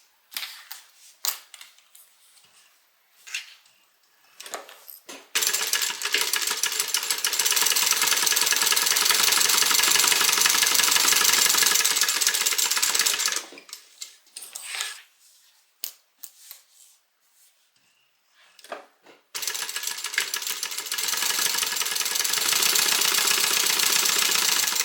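A sewing machine runs long continuous stitching passes down the sides of a hobo shoulder bag, a close, dense rapid chatter in two extended runs separated by quieter handling clicks.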